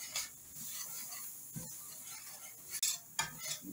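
Onions being stirred in a pan for smothered pork chops: soft scraping and light utensil clinks against the pan over a faint sizzle, close and quiet, with no talking.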